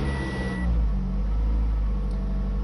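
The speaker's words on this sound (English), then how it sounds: "Let's start the car." A 2014 Toyota RAV4 with a keyed ignition starts up and runs on as a steady low engine rumble heard close by, without any voices.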